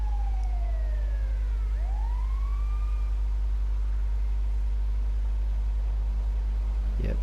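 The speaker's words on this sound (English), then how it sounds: "I can hear some sirens in the distance. Is it the ambulance?" Ambulance sirens in the video game GTA V wail, sweeping up and down at a distance over a steady low engine-like hum, fading out after a few seconds.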